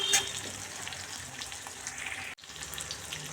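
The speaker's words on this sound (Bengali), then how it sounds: "এক চামচ চিনি দিয়ে দেবো পেঁয়াজ ভাজার সময়।" Onion sizzling in a frying pan, a steady close crackle with a watery hiss and a faint tap-like running sound behind it, a brief dropout near the end.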